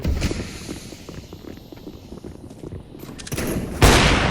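Rapid bursts of gunfire in Counter-Strike crackle in quick succession, then a louder, sharper AWP sniper rifle shot near the end, with a lot of game-style combat noise behind.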